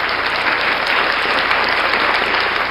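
A dense, steady round of applause from many hands, loud and continuous throughout, with no talking over it.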